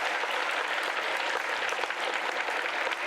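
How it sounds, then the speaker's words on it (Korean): Steady congregational clapping in a church during a Sunday service sending missionaries to Africa, a dense, even wash of many hands lasting throughout with no voices over it. "선교사님들에게 박수 한번 보내주십시오"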